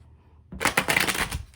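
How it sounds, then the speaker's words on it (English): A quick riffle of tarot cards being shuffled, a short crisp flutter after a moment of quiet. "I'm going to shuffle just one more time"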